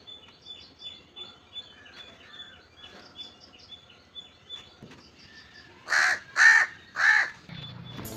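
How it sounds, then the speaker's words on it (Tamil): Crows caw outdoors, calling other crows to food: a few scattered calls, then three loud, close caws in a row over faint insect-like background chatter. "மற்ற காக்கா எல்லாத்தையும் கூப்பிட்டுட்டு இருந்துச்சு"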